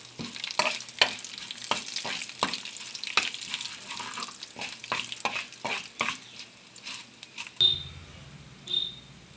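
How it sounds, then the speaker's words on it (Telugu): Mustard seeds, cumin and dry red chillies frying in oil crackle and pop in quick, sharp bursts over a soft sizzle, then a louder hiss swells near the end, with no voices. "జీలకర్ర ఎండుమిరపకాయలు కూడా మనం వేసుకొని కలుపుకుంటూ మనం వేయించుకోవాలి"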